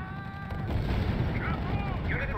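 Gunfire and artillery in the World War II strategy game R.U.S.E.: a dense, rumbling wash of distant battle noise with muffled shots, under game voices and a few whistling tonal effects.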